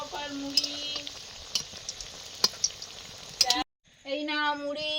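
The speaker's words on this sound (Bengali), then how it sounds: "চপ ভাজা হচ্ছে, গরম গরম চপ আর মুড়ি।" Chop fritters deep frying in hot oil give a steady crackling sizzle with a few sharp pops, cut off by a brief silence before the frying resumes.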